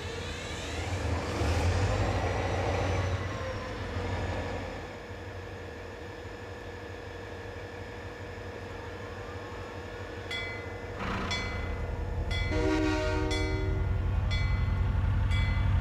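Train moving in the Train Simulator video game, with a steady low rumble and hum throughout, tonal whine and brief bright clanks or horn-like tones near the end; no talking.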